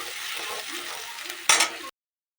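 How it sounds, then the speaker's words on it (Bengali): Paneer kofta curry base frying slowly over low heat, a steady soft sizzle with faint stirring, then a brief louder scrape of the spoon near the end before it cuts off. "এটাকে অনেকক্ষণ থেকে ভাজবো, কিন্তু ভালো করে ভাজলে তরকারির টেস্টটা বেশি আসবে এবং কম হিটে ভাজবে"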